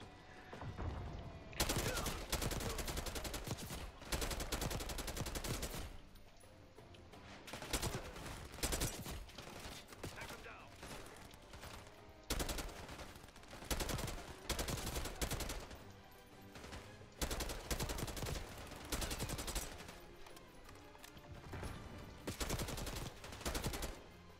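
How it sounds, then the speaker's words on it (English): AK-74 assault rifle fire in the Black Ops 6 campaign, repeated loud bursts of automatic gunfire separated by short pauses, with occasional faint voices. "I like the AK-74, not gonna lie."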